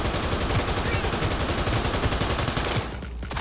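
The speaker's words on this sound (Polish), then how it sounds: "cały magazynek mu pakuje" Sustained automatic gunfire in Cyberpunk 2077, a dense rapid stream of shots dumping a full magazine, loud and close, cutting off abruptly near the end, with no voices.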